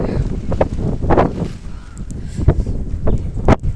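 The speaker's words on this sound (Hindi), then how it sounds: "इस टाइम हवा चल रही बहुत ज़्यादा" Strong wind blows outdoors on a cloudy afternoon, buffeting the microphone in loud irregular gusts with bursts of rustling.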